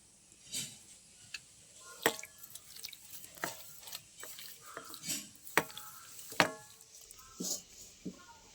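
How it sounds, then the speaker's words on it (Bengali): Bare hands rub salt and ground turmeric into 100 grams of raw fish roe, giving soft wet squelches and light taps spread irregularly over several seconds, close and quiet, with no talk. "এটাতে নুন হলুদ মাখিয়ে নেব"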